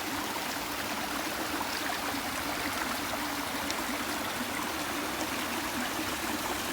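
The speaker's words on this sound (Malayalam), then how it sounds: "ഇനി ഇവിടെ ചെറിയൊരു ചോല പോലെ ചെറിയ ഒരു അരുവി പോലെ ഇങ്ങനെ ഒഴുകുന്നുണ്ട്" A small stream trickles through a park in Korea, a steady, gentle gurgling flow of water that stays constant and fairly soft throughout, with no voices.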